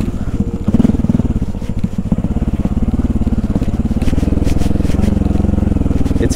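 A motorcycle rides along a rough rural road in Thailand. The engine drones loud and close throughout, and rattles and scrapes come from the bumpy surface.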